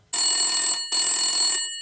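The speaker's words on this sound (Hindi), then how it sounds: "एक बार फिर घंटी बजती है" A telephone bell rings loudly twice in quick succession, each ring a bright metallic trill lasting under a second, with nothing else heard.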